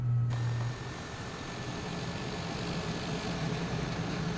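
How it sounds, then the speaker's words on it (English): A steady propeller engine of a Lear Avia Lear Fan 2100 in Microsoft Flight Simulator drones from outside, a constant buzzing roar with a faint whine above it, unbroken for several seconds. "as the pitch is cutting through the air, so you're getting that noise"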